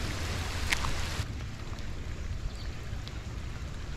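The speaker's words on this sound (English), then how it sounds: "Oh, it's starting to pour right now." Heavy rain pours outdoors under a big tree at a pond, a dense steady hiss of falling water close around, with a brief brighter patter early on before it settles into an even wash.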